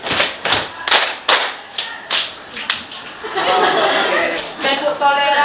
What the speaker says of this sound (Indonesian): Tepuk toleransi.